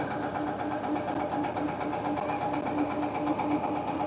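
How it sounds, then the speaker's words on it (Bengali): A motorized trawler boat engine drones steadily on a river near Mirpur, a close, continuous mid-pitched hum with a faint rhythmic throb and no talking. "এই মামা ট্রলার চালায় এখানে বসে।"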